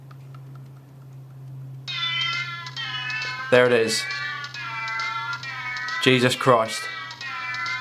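A cat in a game on a Nintendo DS Lite meows repeatedly in bright, drawn-out cries, loud and close, while a person talks and exclaims over it.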